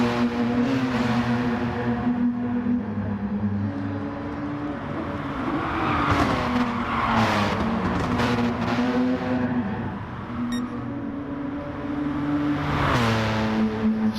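Race car engines whine in a sim racing game as cars sweep through turn one, a continuous layered drone with rising and falling revs and gear shifts, several cars close together.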